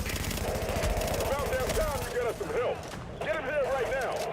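Rapid automatic gunfire with heavy recoil in The Division 2 shooter, a sustained loud burst of shots with a brief gap, while a voice talks over it.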